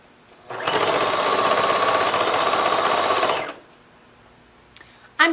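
A sewing machine stitching two rows of quilt blocks together runs in a steady, close, rapid whir for about three seconds, then stops, followed by a couple of faint clicks and a short bump.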